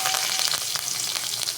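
Curry leaves dropped into hot oil with a pinch of asafoetida, a loud, dense sizzle that stays steady and close throughout, with small crackling pops scattered through it.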